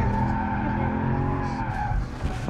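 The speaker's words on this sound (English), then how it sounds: "Nice little drift." Tires squeal loudly and continuously as a Mercedes-AMG car drifts on a track during a hot lap, engine note running under the skid, close and sustained.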